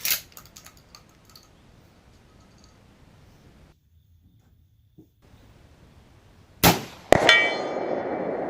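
A 12 gauge Foster rifled slug strikes a steel gong target at long range on an outdoor range: a few faint metallic taps early on, then a loud shotgun blast followed moments later by a sharp clang with a lingering metallic ring.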